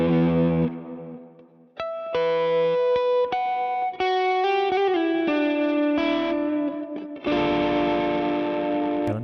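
Electric guitar run through a Neural DSP Archetype Mateus Asato amp plugin with delay and reverb, playing sustained chords and single notes that ring out with echoing repeats and a lush tail, loud and alone.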